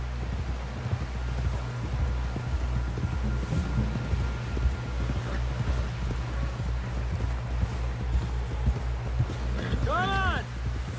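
Horse hooves clip-clopping steadily as a rider pushes on toward camp in Red Dead Redemption 2, a dense rhythmic patter under game wind, rustling ambience and voices.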